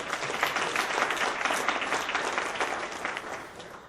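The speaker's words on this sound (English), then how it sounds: "Give this lady a nice round of applause." An audience at a talk on hacking the human brain claps for a volunteer, a dense burst of applause near and fairly loud that gradually thins toward the end.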